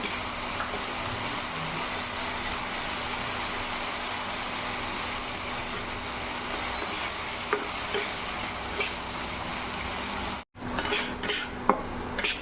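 Spice paste being stirred and fried in a pan for an okra dish, heard as a steady sizzle with scattered scrapes and clinks of a utensil against the pan, close and continuous, with no talk.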